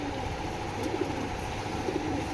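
Racing pigeons, a hen among them, give soft, low coos close by against a faint background of engine rumble.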